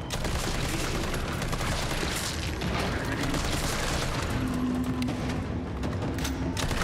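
Assault rifle fire in a shooter video game, steady dense rattling gunfire running throughout with muffled blasts, while voices talk over it.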